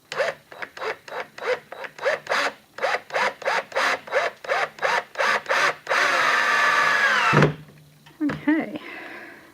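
A power drill drives 2-inch screws into a wooden chicken coop Dutch door, a rhythmic run of short rasping bursts followed by a longer steady whine that stops sharply, with speech nearby.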